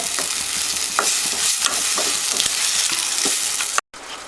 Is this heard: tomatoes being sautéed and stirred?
yes